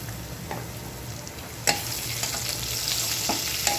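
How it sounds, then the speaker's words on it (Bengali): Onions fry with nigella seeds and whole cumin in a pan, giving a steady close sizzle broken by a few sharp clinks and scrapes of stirring, with no voices. "পেঁয়াজ ভাজাটার ভিতরে আমি অল্প করে কালি জিরা দিয়ে দিচ্ছি"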